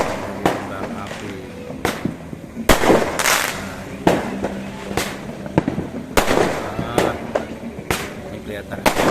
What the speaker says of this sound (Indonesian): di barat mulai lagi ini kembang api.